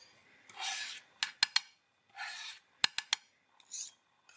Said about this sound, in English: And you scrape it in towards the middle.